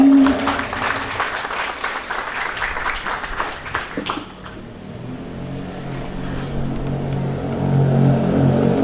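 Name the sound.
audience applause at school graduation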